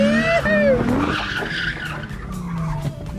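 A Nissan 350Z drifts under handbrake with a loud, sustained squeal of skidding tires close by, sliding in long gliding tones as the engine runs beneath, and voices talk over parts of it.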